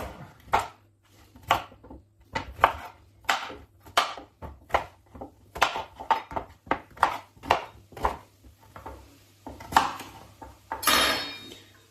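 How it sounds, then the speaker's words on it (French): Knife chopping sweet potato into large cubes on a board, a steady series of sharp, close knocks at an even, unhurried rhythm with no talk. "Et on coupe"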